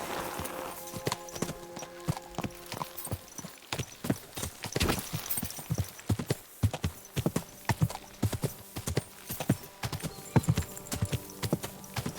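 A horse gallops and neighs in the medieval video game Kingdom Come: Deliverance 2, with rapid, rhythmic hoofbeats clattering steadily throughout and brief whinnies mixed in at moderate loudness.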